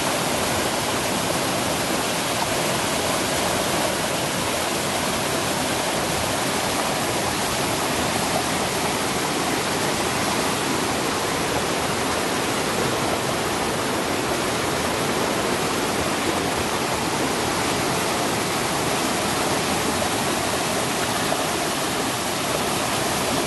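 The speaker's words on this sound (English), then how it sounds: "There's a really neat waterfall," Steady, full-bodied rush of falling water, constant and unbroken throughout, with no voices or other sounds standing out.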